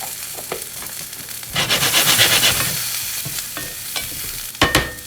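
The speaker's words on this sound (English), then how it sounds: "we're gonna saute up some mushrooms just because that's what I like with my steak" Mushrooms sautéing in a pan, seasoned with salt and pepper, give a steady close sizzle that swells loudly midway as they are stirred, with a few scraping clicks and a brief burst near the end.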